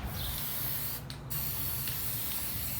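A continuous hiss from a spray gun painting a garden gate, close and steady, with one short break in the middle before it resumes.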